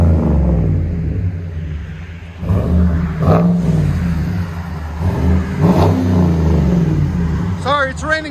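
A Chevy Silverado 2500HD work truck with a 6.6L gas V8 and Black Widow Race Venom dual exhaust rumbles nearby, idling then rising in a couple of revs, with rain in the background.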